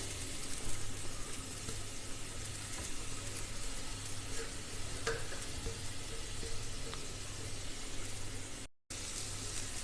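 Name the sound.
grated sweet potato sautéed in ghee in a pan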